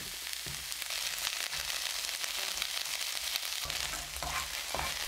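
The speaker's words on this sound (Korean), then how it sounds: "달군 후라이팬에 식용유 2스푼 넣고 마늘종 넣어 중불로 1분 30초 볶아주세요." Garlic scapes stir-fry in two spoons of cooking oil in a preheated pan over medium heat, giving a dense, continuous sizzle broken by soft scraping stirs.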